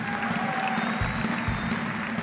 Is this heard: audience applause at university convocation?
yes